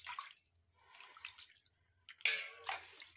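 Tap water runs over hands as a homemade coconut-oil face mask is washed off: faint, brief splashing bursts separated by short quiet gaps, with nothing else heard.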